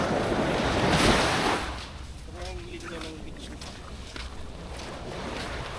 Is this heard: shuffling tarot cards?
no